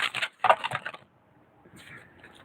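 Tarot cards are shuffled in quick bursts of dry riffling and slapping, fairly quiet, then a pause and a softer rustle of cards.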